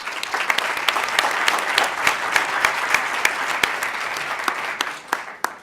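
A dense, steady round of audience clapping welcomes a speaker to a Harvard Law School media panel, loud and continuous before thinning out near the end.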